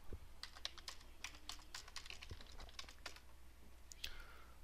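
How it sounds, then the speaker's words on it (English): Quiet clicking of keys on a computer keyboard during a lecture, a steady run of light taps over low room hum, fairly close and alone without speech. "And I'll go ahead and type this value in there."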